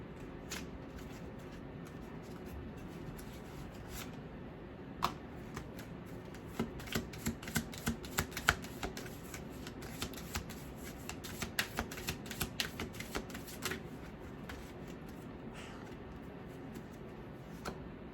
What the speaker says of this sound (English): Pulling cards from Spirit's Junkie.